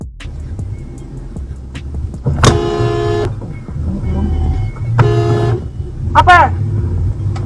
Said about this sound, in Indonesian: Terdengar pada video suara klakson pertama dari pengendara mobil tersebut.